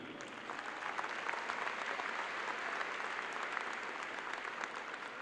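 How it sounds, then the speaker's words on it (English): Sustained applause from a university commencement audience, a dense even clatter of many hands clapping that holds steady for several seconds. "We'll applaud them as a group."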